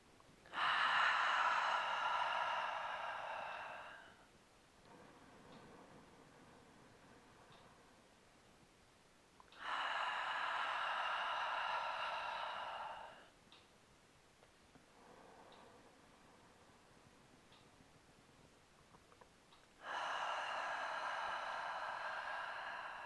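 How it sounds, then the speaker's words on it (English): Three slow, deep cleansing breaths taken in through the nose and released out of the mouth, close and breathy, each long airy exhale followed by a quieter inhale, alone in a quiet room. "So I'm just taking a cleansing breath in through the nose, out of the mouth."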